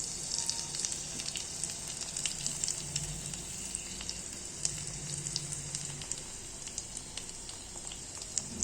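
Bread omelette frying in a pan over a high gas flame, a steady soft sizzle and crackle with scattered small pops throughout, fairly quiet and close, with no voices.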